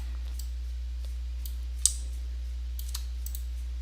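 Faint, sparse computer mouse left clicks while jewellery design software is used, a handful of soft irregular ticks over a steady low electrical hum.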